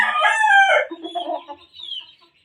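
A two-year-old gamefowl brood stag rooster crows nearby. A loud, close crow is followed by softer trailing clucks that fade out quickly.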